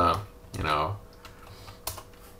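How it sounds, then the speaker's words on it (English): Dates typed on a computer keyboard: a few scattered key clicks at close range, partly under a person speaking. "I'm going to start typing some dates"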